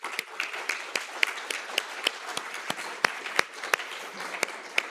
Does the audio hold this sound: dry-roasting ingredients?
no